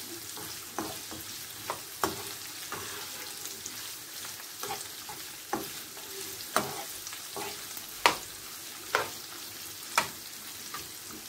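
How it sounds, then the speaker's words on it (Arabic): Chicken liver frying in a pan over reduced heat, a soft steady sizzle with occasional sharp pops and crackles, close and alone. "غنقص البوطة ونخليها تشحر مزيان"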